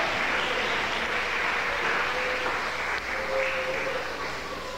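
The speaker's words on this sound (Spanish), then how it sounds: "un aplauso para el Señor de la gloria" Steady applause from a church congregation praising the Lord during a sermon, a soft, even wash of many hands clapping at a distance with no pauses.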